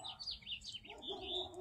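Bewick's wren song at sunrise in a garden, a series of bright varied chirps and trills repeating close by, with faint low background hum beneath.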